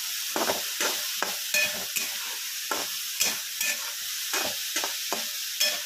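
Vegetables frying in hot oil with salt are stirred in a pan, giving a constant sizzle broken by repeated scraping strokes of a spoon at an uneven rhythm, close and clear with no voices.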